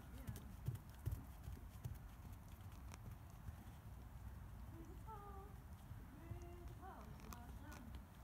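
A horse cantering over ground poles while being lunged, its hoofbeats a soft rhythmic thudding at moderate distance, with a few faint vocal sounds over the steady outdoor background.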